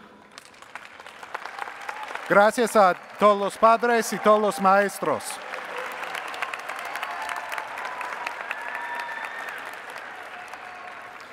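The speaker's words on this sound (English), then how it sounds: "please rise and give some applause for your families and for your teachers" Graduating students and the audience at a bioscience high school graduation ceremony applaud their families and teachers. A speaker's voice comes first, then broad, steady crowd applause swells and carries on to the end, filling the hall.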